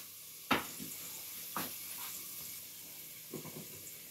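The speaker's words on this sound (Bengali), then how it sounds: "এখন আমি আমার যে পেস্ট ছিল সেই পেস্টটা এটার মধ্যে ঢেলে দিব।" Spice paste hits hot oil in a pan while cooking a simple chicken roast, giving a sharp sizzle near 0.5 s, then another burst around 1.6 s and softer spatters near 3.4 s, all close and with no voices.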